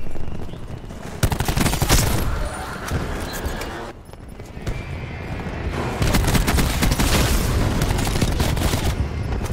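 Video game gunfire comes in rapid, loud bursts and volleys, with a short lull midway before the shooting resumes heavily.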